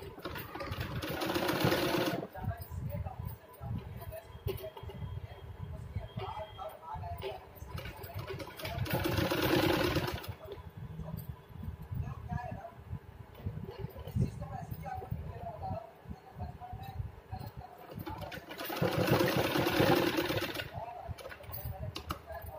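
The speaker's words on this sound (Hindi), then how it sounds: "यहाँ से अटैच करते करते सिलाई लगा देंगे।" Sewing machine stitching a cotton dress for a small deity figure, its motor whirring in bursts of a few seconds separated by quieter pauses, with faint background noise between runs.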